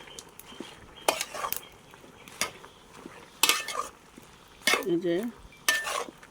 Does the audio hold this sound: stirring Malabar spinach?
yes